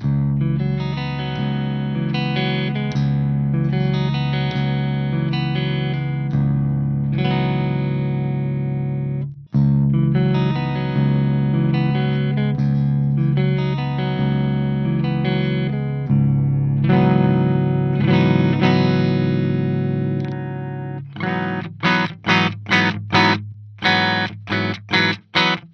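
Electric guitar played through the distortion channel of a Peavey JSX amp with the fat switch on, thick saturated riffs and sustained chords with a brief gap, ending in a run of sharp staccato stabs, loud and alone.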